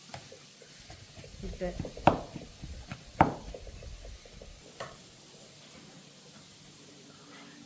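Leeks sautéing and being chopped up in a pan, with a low steady sizzle and stirring scrapes, two sharp loud metallic strikes near the middle and a lighter one after, while a voice speaks briefly.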